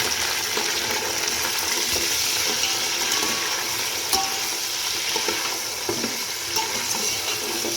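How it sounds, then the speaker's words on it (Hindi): Boiled beef frying with golden brown onions in a hot pot gives a steady, close sizzle, with stirring scrapes and occasional clinks running throughout and no talk. "गोश्त हमारा बहुत ही अच्छी तरह भुन रहा है।"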